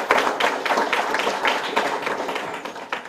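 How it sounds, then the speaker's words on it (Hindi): Audience at a tribal youth gathering in Raipur clapping for themselves, a dense, steady patter of many hands in a hall with some voices mixed in. "तो एक बार अपने इस लगन के लिए आप खुद के लिए तालियां बजाएं।"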